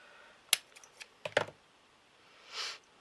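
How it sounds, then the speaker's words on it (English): A few sharp, close snips from scissors trimming glued trim on a handmade miniature hat, several crisp cuts in quick succession followed by a soft rustle, with no talking. "And then I'm going to snip that off."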